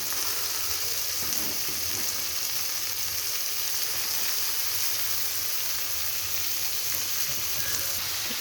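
Chopped cabbage, carrot and peas fry in spices in a hot pan. A steady, close sizzle hisses throughout, with soft stirring scrapes mixed in.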